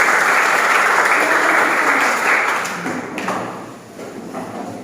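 A classroom of children applauding together, dense loud clapping at the start that gradually thins and fades toward the end.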